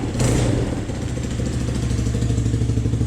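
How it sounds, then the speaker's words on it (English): A motorcycle engine runs loud and close, with a rough, steady idle rumble and a brief rise in revs near the start. "Let me go give it a few revs."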